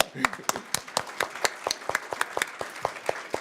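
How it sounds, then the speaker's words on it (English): Round of applause from a conference audience at a European territorial-future event, individual claps clearly separated and fairly close, with a voice briefly audible near the start. "Shall we give them a round of applause?"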